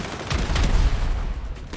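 A light machine gun fires explosive rounds in the GTA V video game, heard as a brief, loud, dense burst of rapid shots lasting under two seconds.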